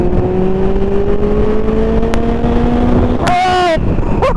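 Kawasaki Z 750 R motorcycle with an aftermarket exhaust, a steady engine drone climbing slowly in pitch, then a sharp rising rev near the end before dropping off, loud and close.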